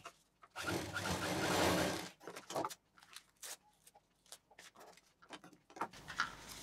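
A sewing machine stitches a transparent DIY bangle box, with a close, loud burst of whirring stitching near the start. Scattered ticks and handling knocks follow.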